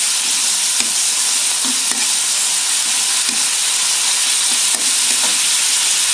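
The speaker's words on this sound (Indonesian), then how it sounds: "Minyak wijen. Kita oseng lagi." Mushrooms and beef stir-fried in a pan with sesame oil, sizzling and crackling steadily and up close, with scattered sharper pops and scrapes from stirring, and no talking.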